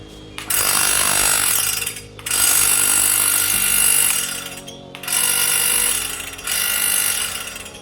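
A 2006 Crompton Mini Star-2 water pump with a loose back cover runs in loud bursts, a harsh grinding, rattling mechanical roar that starts and stops about four times, close and alone with no talk.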